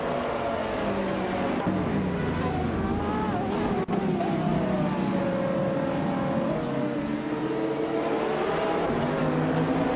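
Race car engines in a racing video game, including a 1989 Ferrari F40 LM, roar steadily throughout. Loud, sustained engine tones rise and fall in pitch as the cars accelerate and shift, with no talk.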